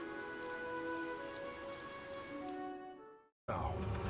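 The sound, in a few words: rain in video game Fire Emblem Three Houses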